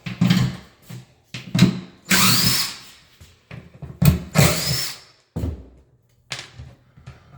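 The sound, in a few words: power drill removing screws from closet base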